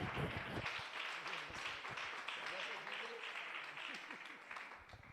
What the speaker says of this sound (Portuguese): Vamos voltar a palavra do servo do Senhor com palmas e glória a Deus.